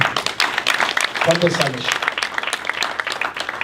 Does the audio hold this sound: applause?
yes